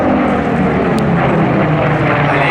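A Lockheed P-38 with twin Allison inline V12 engines flies past at an air show, a loud, steady propeller-engine roar with no break.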